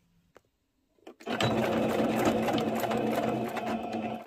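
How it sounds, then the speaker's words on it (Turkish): A sewing machine runs steadily, stitching closed the open section of an elastic skirt waistband, with a brief pause and a couple of clicks before a loud continuous whir of about three seconds, close and alone. "Açık bıraktığımız kısmı da dikiyoruz."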